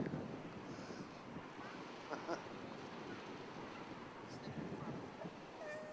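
Wind buffeting the microphone in a steady rumbling roar on a city block, with faint distant voices in the background.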